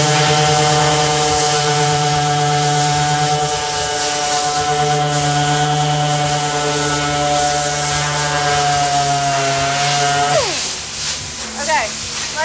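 A handheld power sander works over the painted body of an American Made Braun ambulance, its steady loud whine holding for about ten seconds before it spins down and stops, followed by a little scraping.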